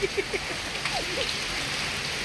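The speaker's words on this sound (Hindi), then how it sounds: "अभी बारिश कम है मगर वो बहुत गिर रहा है काफ़ी।" Rain falling steadily outdoors during a storm with hail, a continuous soft hiss with a few sharp patters near the start, moderately faint and alone without voices.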